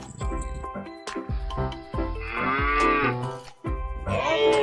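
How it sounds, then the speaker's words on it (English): A cow moos several times in a row, deep drawn-out lowing calls with brief pauses between them, close by and loud. "That's a cow."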